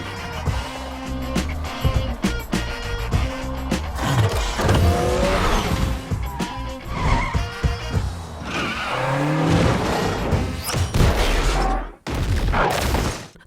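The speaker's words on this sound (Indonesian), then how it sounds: "mereka pun menggaspol pick-up sayurnya dan saling menyalip satu sama lain" Vegetable pick-up trucks race and overtake one another in a film chase, with busy, loud engine roar, skids and tyre squeals mixed with impacts and dramatic score over several seconds.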